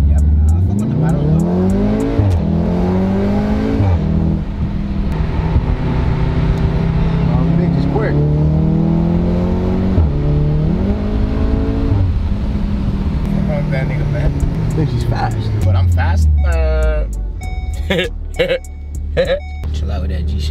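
Volkswagen car with paddle shifters revving hard while driving, engine pitch sweeping up and down through repeated gear changes, loud and close, with people talking and laughing inside the cabin.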